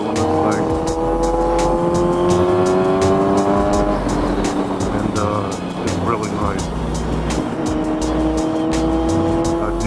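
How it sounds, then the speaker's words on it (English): A 2022 Kawasaki Z900 motorcycle with full headers and an upgraded exhaust drones steadily with a loud, throaty rumble and shifts pitch, while a voice talks over it. "you can clearly hear that the exhaust has been upgraded."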